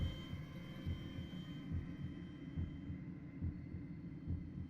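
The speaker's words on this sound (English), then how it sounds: "Uh-oh, heartbeat." In the Song of Horror video game, a low heartbeat thumps at a slow, steady rhythm, muffled and throbbing over a dark, humming ambience with no talk.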